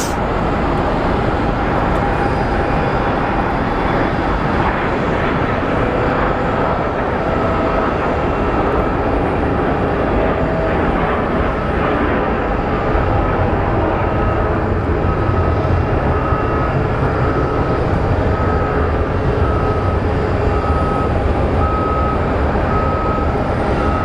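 Loud continuous jet roar from a Southwest Boeing 737, flight 2340 from Chicago, on final approach at Phoenix Sky Harbor Airport, a steady broadband rumble holding for the whole stretch with no voices.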